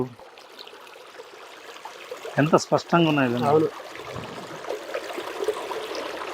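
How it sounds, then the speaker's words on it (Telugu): A gurgling stream of clear flowing water near a waterfall runs as a steady, close rush throughout, briefly overlaid by a short spoken phrase. "గలగల రావాలు, జలపాత శబ్దం"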